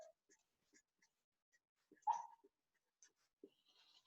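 A dog whimpers in short, faint whines during a class, with a slightly louder cry near the middle and quiet, sparse sounds in between.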